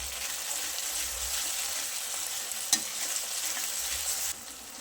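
Garlic and green chilli paste sautéing in hot oil for a Gujarati dry chori (cowpea) curry, giving a steady, even hiss that runs unbroken throughout, with one sharp clink partway through and no voices.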